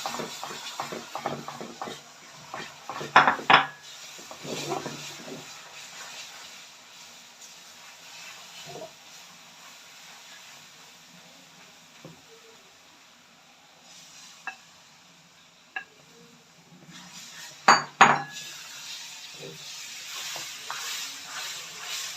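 Milk, egg and sugar batter is poured bit by bit into roasted besan in a hot pan, giving soft sizzling under a quiet background, with sharp clatters of utensils at a few moments.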